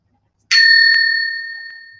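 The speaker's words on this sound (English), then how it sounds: "The timekeeper will ring the bell once." A single bell struck once at a debate competition, a bright metallic ding with a clean attack and a long ringing decay, heard alone and close.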